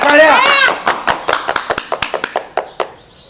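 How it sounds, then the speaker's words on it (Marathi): Rhythmic hand clapping at a Marathi comedy performance, with a voice speaking first and then a run of sharp, evenly spaced claps close by, thinning out toward the end. "टाळ्या टाळ्या"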